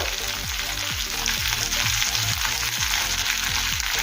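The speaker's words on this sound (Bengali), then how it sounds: "প্রায় 1 মিনিট সময় নিয়ে পেঁয়াজ আর ক্যাপসিকাম ভেজে নেব।" Onion and capsicum frying in a pan for chilli chicken, a loud, constant close sizzle alone, with a low rhythmic hum or tone pattern repeating underneath.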